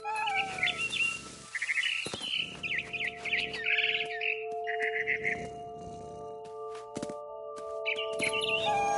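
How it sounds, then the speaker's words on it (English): Bright bird chirps and tweets from a barn swallow in a game come in repeated bursts over a steady droning hum, fairly close, with brief pauses between the calls. "Then I heard chirping outside my window. It was a barn swallow going back to her nest."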